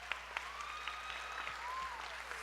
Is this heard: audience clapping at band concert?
yes